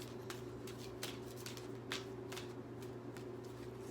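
Tarot cards being shuffled by hand during a reading: repeated soft riffling and slapping bursts, close and fairly steady over a constant low electrical hum, with no talk.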